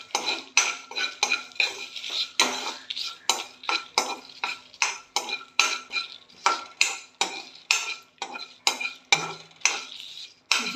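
A spatula scrapes and clinks rhythmically in a pan where garlic, cumin and dried chillies are dry-roasted, repeating close-up strokes about twice a second with no voices.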